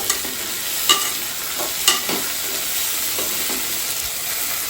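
Masala with coriander leaves and mint frying in a pan for tomato bath, giving a loud steady sizzle with a few sharp spatula taps and scraping stirs.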